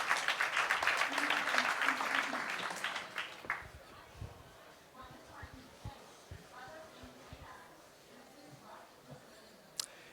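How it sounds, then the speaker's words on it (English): Audience applause at a digital tech summit, a short burst of clapping at the start that fades quickly into scattered taps, shuffling and quiet room noise. "Please give them a big hand and welcome on stage."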